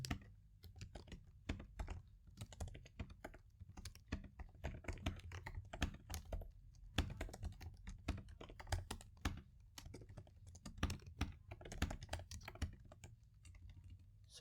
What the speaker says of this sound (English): So I will keep typing.